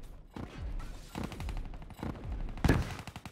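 Bursts of XR-2 gunfire ring out in the Black Ops 3 video game, several short rapid volleys separated by brief pauses, the last one loudest, with faint game noise between.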